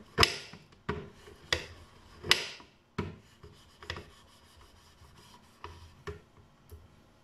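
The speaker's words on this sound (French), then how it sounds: "Vous allez prendre votre couteau, venir faire des lamelles." A knife shaving milk chocolate into thin curls, heard as a series of dry scraping, rasping strokes about once a second, close and fairly quiet with no talking.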